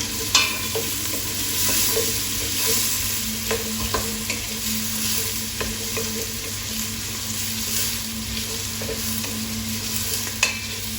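Vegetables for butternut squash soup cook in a pan, crackling in a steady sizzle with occasional clicks and scrapes of stirring, close and continuous, with no talking.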